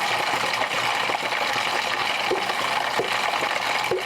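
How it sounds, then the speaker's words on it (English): Thick BBQ sauce poured over chicken in a home kitchen, a continuous wet, gushing pour that runs steadily for several seconds with small splatty bursts. "pour the remaining sauce all over this chicken"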